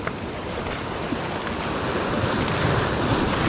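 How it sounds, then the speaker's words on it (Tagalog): Large ocean waves roll and crash at a coastal fishing spot, a continuous rushing surf blended with wind buffeting the microphone, growing slightly louder toward the end, no talk. "Katakot, ang daming malaking alon."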